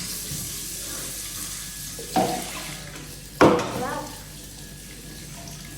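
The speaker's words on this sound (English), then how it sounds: "rinse that thing again. Rinse inside of it also." Running tap water flows steadily into a kitchen sink while a five-year-old child rinses dishes, with two sharper splashes and clatters of a dish under the stream and a brief spoken word.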